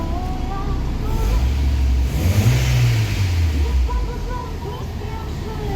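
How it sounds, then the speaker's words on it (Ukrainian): A BMW car engine runs nearby after a gasket replacement, with a low rumble, briefly revving up and easing back down amid background noise. "Вроді би двигун працює добре"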